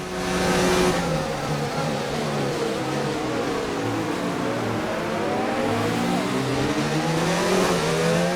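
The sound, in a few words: Formula 1 race car engine in slipstream, video game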